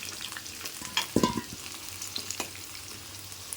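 Potatoes frying in hot mustard oil, a soft steady sizzle with a few stirring scrapes and a brief louder clatter as the spoon moves through the pan.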